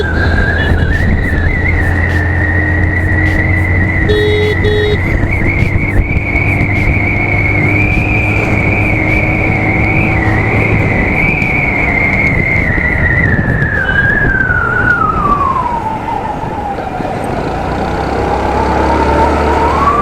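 A Hero Maestro Edge scooter accelerates along a road in Haldwani, its high drivetrain whine rising, holding steady and then dropping as it slows, over constant wind and road rush.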